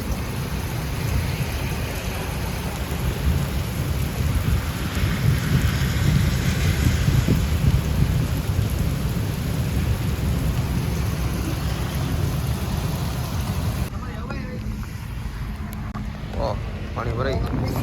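Heavy rain pours steadily over a village, a dense, loud wash of drumming drops with low rumbles of thunder underneath, and people's voices are heard faintly through the downpour.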